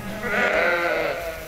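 A flock of farm sheep bleats together at feeding time, a dense overlapping chorus of close, loud calls that swells and holds steady throughout.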